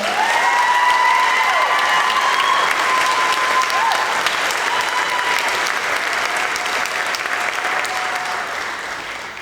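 Thunderous clapping from a graduation crowd carries on steadily, with high shouts and cheers riding on top, loud throughout and easing off slightly near the close.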